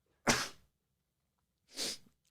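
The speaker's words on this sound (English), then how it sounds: "I got to sneeze" Two sharp human sneezes, close and loud, about one and a half seconds apart, with silence around them.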